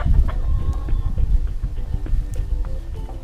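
Backyard chickens cluck and mutter close by in short, irregular bursts over a busy, rustling background.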